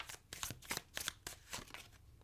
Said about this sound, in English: Let's pull one more and then we'll pull your tarot.